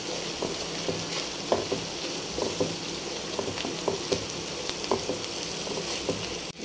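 Spices and fish masala with turmeric and salt fry in a pan, giving a constant close sizzle broken by light, repeated scraping and stirring sounds.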